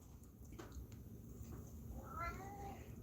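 A pet cat named Simba gives a faint, drawn-out meow near the end, over a low background hum, preceded by a few soft clicks and rustles, with no speech.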